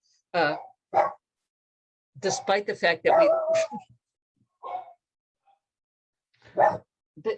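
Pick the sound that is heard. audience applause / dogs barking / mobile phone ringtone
dogs barking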